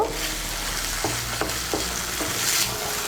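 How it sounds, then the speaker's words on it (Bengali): Oil being stirred into jhinge aloo posto, a ridge gourd and potato poppy-seed curry, in a pan: a steady soft sizzle with a few scraping spoon strokes against the pan, close and continuous, no voices. "তেলটাকে মিশিয়ে নেব।"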